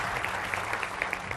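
Audience applause rises in a steady, dense patter to welcome panelists on a Hindi political debate show, filling the brief moment without any voices.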